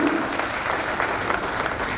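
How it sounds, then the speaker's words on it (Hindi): Audience applause at a political event in Udaipur marking the Emergency anniversary, a dense, steady clapping from a crowd that continues throughout. "जिलाध्यक्ष माननीय श्री जसपाल सिंह राठौर जी, वहाँ ताली बजाने का हक है आपको"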